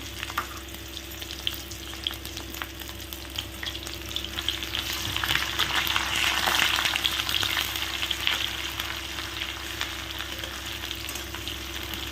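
Sliced onions frying in hot oil for an alu potol dalna, a steady broadband sizzle that swells louder midway as the moisture cooks off, with faint scraping underneath and no talk.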